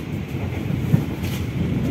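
Interior of a moving Lodaya passenger train with air conditioning, a steady low rumble and rattling carriage noise with a faint hiss, continuous throughout.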